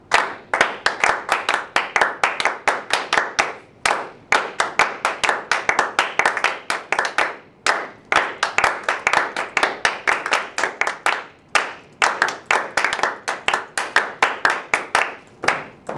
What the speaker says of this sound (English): So let's clap from the beginning to measure 9.